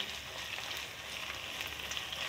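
Cumin and coriander seeds dry-roasting in a pan for shami kabab give off a steady, soft crackling hiss with no talk.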